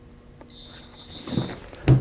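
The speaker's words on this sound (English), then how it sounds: "It will count down to 0 and beep when it's completed." Stahls' A2Z swing-away heat press gives a single long electronic beep when its countdown finishes, followed by a few clunks and handling noises nearby.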